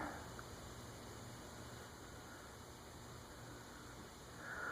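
A ceiling fan hums faintly and steadily throughout, a soft continuous whir with a slight rise near the end and no other sounds.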